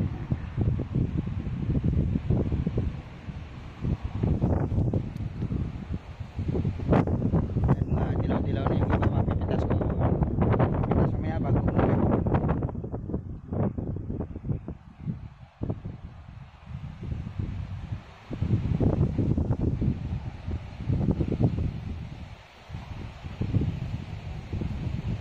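Gusty wind blowing through a tomato garden, roaring and buffeting the microphone in long surges with brief lulls, loud and close throughout.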